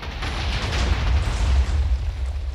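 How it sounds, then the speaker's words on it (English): TNT minecarts exploding underwater in Minecraft, a dense continuous rumble of blasts lasting a couple of seconds, loud and boomy with no talking. "all of the TNT minecarts are going to go up the bubble column and we will have impact"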